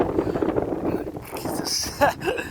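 Gusty outdoor wind buffets a microphone with rough, uneven rumbling and occasional louder swells throughout.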